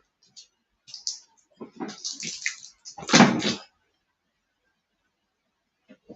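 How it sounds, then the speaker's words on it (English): Water pours from a freshly opened plastic bottle into a cup in short close splashes and gurgles, with a louder half-second pour in the middle, then silence. "I'm adding a little bit of water inside"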